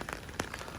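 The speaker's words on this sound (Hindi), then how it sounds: "बारिश हो रही है" Rain falls steadily in a continuous soft hiss, with a slightly sharper patter near the middle; no voices are heard.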